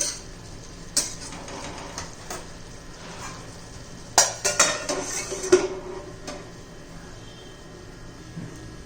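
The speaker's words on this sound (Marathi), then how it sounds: "हे पहा पुन्हा एकदा आपण झाकण काढूया" Lid lifted off a pan of cooking ridge gourd bhaji over medium heat, with a sharp metallic clank and a quick cluster of rattles and clinks midway, over a faint steady background.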